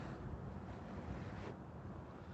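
Steady, strong wind blows outdoors on a hot day, a continuous close rumble buffeting the microphone with no pauses.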